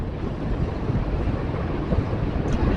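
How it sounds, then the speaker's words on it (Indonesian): Strong wind buffeting the microphone while riding along a road, a loud, continuous low roar and rumble with no talking. "Anginnya kencang sekali teman, sangat seger, sepoi-sepoi anginnya teman."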